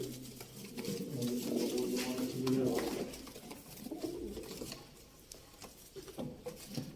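Pigeons coo softly in low, repeated murmurs, with wing flutters and shuffling around them at close range.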